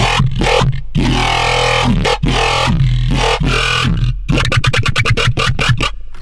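Aggressive, heavy growling bass synth made in Serum, with a snorting, pig-like tone, chopped into stuttering rhythmic bursts, loud and unaccompanied.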